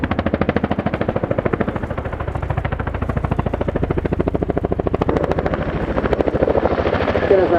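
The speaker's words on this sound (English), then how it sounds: "The Chinook excels in high-threat tactical battlefield environment, operating in ultra-low level by day and night." Royal Air Force Chinook HC.6A twin-rotor helicopter in a flying display at an air show, its loud, rapid rotor thudding steady and close throughout and swelling slightly near the end.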